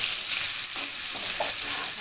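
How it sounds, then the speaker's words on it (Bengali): Hilsa fish frying in oil with cumin and fried onion, a dense, close sizzling hiss that stays loud and even for the whole stretch, with a soft scrape or two. "ওই তেলের উপরে দিয়ে দিলাম মাছটা হালকা করে এপাশ ওপাশ করে নিব"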